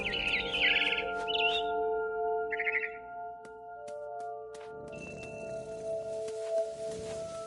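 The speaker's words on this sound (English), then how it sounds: "Then I heard chirping outside my window. It was a barn swallow going back to her nest." Bright barn swallow chirps from the game What Remains of Edith Finch flutter in short bursts at the start, over a steady electronic hum with sustained synth tones and occasional ticks.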